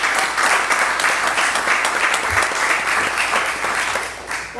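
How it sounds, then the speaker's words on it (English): Sustained, loud applause at a school board of education meeting for the central office staff, a dense, even roar of many hands clapping throughout with no break. "That's applause for our staff, the central office staff."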